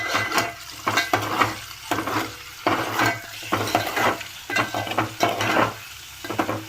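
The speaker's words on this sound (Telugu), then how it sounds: "కొంచెం సాల్ట్ వేసుకొని ఒకసారి కలుపుకుందాము" Eggs with turmeric and salt are tossed and mixed in a hot frying pan, with rhythmic spatula scrapes over a constant sizzle and a low steady hum beneath, close and clear.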